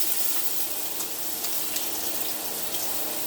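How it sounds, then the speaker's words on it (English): Garlic and onions sauté together in a pan, giving off a steady, close sizzle with faint crackling ticks throughout and no voices. "Now I'm just going to saute those with the onions."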